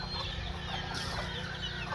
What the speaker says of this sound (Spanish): vea. Gallina.